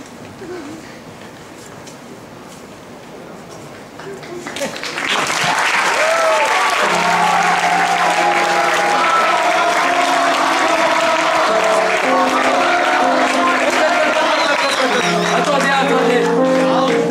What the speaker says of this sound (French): On a encore besoin de vos applaudissements pour accueillir chaque membre de la troupe